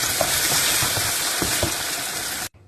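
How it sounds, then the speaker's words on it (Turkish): Rice grains sautéing in a pan with onion, garlic and olive oil for stuffed peppers, a steady loud sizzle with soft stirring scrapes, cutting off abruptly near the end. "Pirinçleri nişasta gidene kadar yıka, süz, ardından kavurmaya başla."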